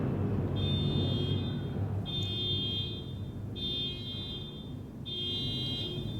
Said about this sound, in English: Car alarms all day.